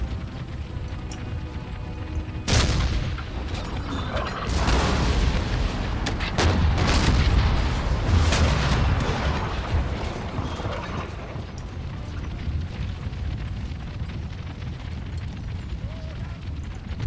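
Cannon artillery fire in Empire Total War, a run of booming, rumbling blasts that starts sharply and continues loudly for several seconds before settling into a lower ongoing roar of battle.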